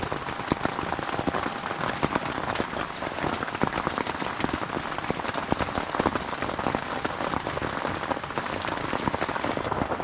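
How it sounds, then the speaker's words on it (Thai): Rain patters steadily on a rooftop tent at night in Thung Salaeng Luang national park, a dense, continuous hiss of drops striking the fabric close by, with no voices. "ฝนตกนะครับที่ทุ่งแสลงหลวงตอนนี้ บรรยากาศดีมากเลย"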